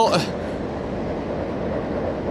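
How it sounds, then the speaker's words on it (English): A Japanese bullet train rushes past under a low bridge with a steady, loud roaring rumble, briefly sharper at the start as it goes by nearby. "That's the bullet train."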